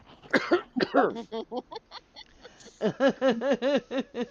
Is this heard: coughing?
yes